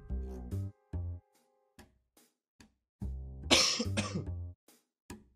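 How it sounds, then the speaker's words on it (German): Several deep, close coughs come in separate bursts, one harsher fit in the middle, with quiet gaps between them. "Aber das Husten tut mir so leid"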